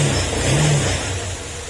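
A motorcycle engine with a rattling crankshaft, revving briefly at close range with a steady mechanical drone and a slight rise and fall in pitch.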